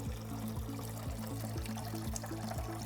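Dirty water drains from an Electro Freeze pressurized machine into a bucket, a continuous close pouring gush with a regular pulsing gurgle throughout.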